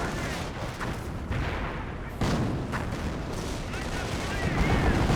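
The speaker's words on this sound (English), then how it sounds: "There's artillery in this sector." Artillery shells and gunfire in a Company of Heroes battle, with repeated heavy booms and crackling shots layered over a dense rumble, loud and continuous.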